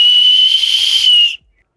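A loud, sharp two-finger whistle holds one steady piercing tone for just over a second, then cuts off abruptly into silence.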